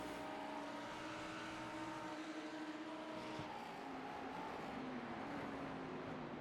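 GT3 race cars lapping Mosport in the iRacing sim, a steady, continuous engine drone with shifting pitch as cars run together, fairly loud and unbroken with no talk over it.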